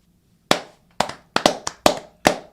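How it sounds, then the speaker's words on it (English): A few people clap after a birthday song: six sharp, separate hand claps in an uneven rhythm, close and crisp against a quiet background with no talk. "I hope everyone at home is clapping with us."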